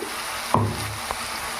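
Broad beans frying in a pan as a ladle stirs them, a soft continuous sizzle broken by a sharp scrape of the ladle partway through and a smaller knock a moment later, heard close with no talk.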